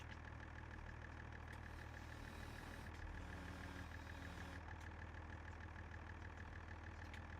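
A tractor engine idles at a low, steady rumble in Farming Simulator 25 during logging work, continuous and moderately quiet with no voices over it.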